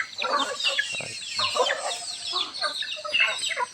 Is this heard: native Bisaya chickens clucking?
yes